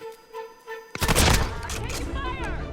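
Gunfire in Call of Duty: Warzone, a sudden loud burst of shots cutting in after a quiet stretch, followed by a sustained close clatter of firing and impacts, with a voice speaking over the action.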